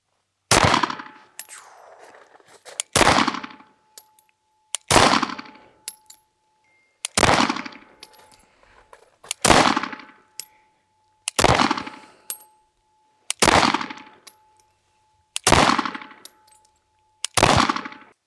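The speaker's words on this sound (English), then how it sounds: "up next is Jeff on the polymer frame. Irons. Let's see it" Eight evenly spaced, loud pistol shots from a polymer-frame Sig P365 fired with iron sights, each crack followed by a ringing metallic ping from a hit steel target and a short decay outdoors.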